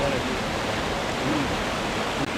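Two short waterfalls in a forest give off a steady, even rushing of falling water that fills the whole stretch without a break.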